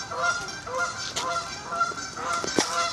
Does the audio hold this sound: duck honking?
yes